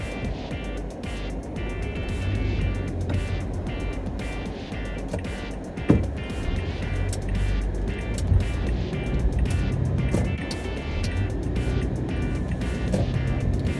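A 2012 Toyota Prius C hybrid car drives along, steady low road and engine rumble with a couple of brief knocks or bumps. The noise holds at a moderate, even level throughout.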